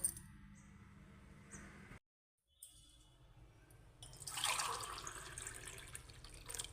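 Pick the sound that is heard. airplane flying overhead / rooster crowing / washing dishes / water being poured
water being poured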